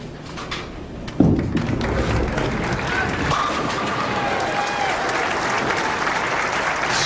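A capacity crowd at Landmark Bowling Center breaks into loud sustained applause after a match, with a commentator talking over it.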